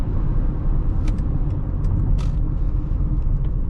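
A 2005 Chrysler 300C with a 5.7L Hemi V8 pulling away from traffic: a deep, steady engine rumble with road noise, heard from inside the car, continuous and fairly loud.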